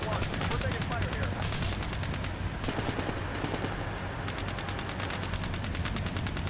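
Sustained gunfire in the Steel Beasts Pro tank simulation, steady rattling machine-gun bursts and rapid shots filling the scene at moderate loudness, with radio voices talking over it.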